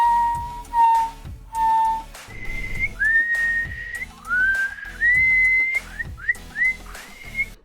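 A person whistles in an attempt to imitate a walrus, giving a series of short pitched notes with sliding, rising whistles. The attempts come in separated bursts with brief pauses between them.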